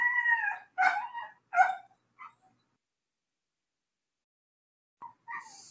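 A dog howling in a long, wavering call, followed by two sharp, loud yelps and a couple of short, fainter calls separated by several seconds of near silence, heard close and alone, with a rooster also about.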